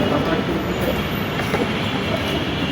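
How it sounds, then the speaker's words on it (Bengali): A metro rail train runs along an elevated track, producing a loud, continuous rumble of wheels on rails with faint clatter, heard up close and steady throughout. "এই হলো মেট্রো রেল"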